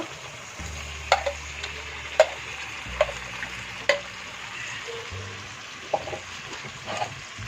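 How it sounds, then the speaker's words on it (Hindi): Chicken pieces dropped into pan of fried onions, sizzling steadily at close range with several sharp clatters of a spoon against the pan, no talking. "ऑनियन फ्राई हो चुकी है, और यहाँ डाल रहे हैं चिकन को।"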